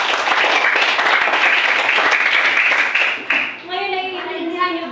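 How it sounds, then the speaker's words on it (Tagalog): A classroom audience claps steadily for a few seconds, dense applause that fades out, followed by children's voices chattering. "Bigyan ng palakpak si Winnie Joy."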